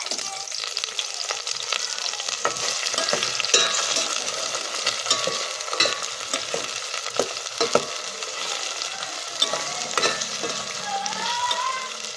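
Garlic, onion and bitilya fish sauté in a hot pan, giving a steady close sizzle with scattered crackles and stirring scrapes, and no one speaks.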